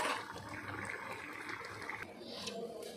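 Freshly boiled, thick dal poured out of a cooking pot, a soft continuous liquid pour and slosh with faint clinks near the end, steady and fairly quiet with no talk.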